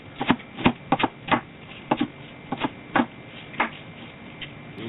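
Knife chopping cabbage into smaller pieces on a board: a dozen sharp, close thuds in an irregular rhythm, clear over quiet room tone.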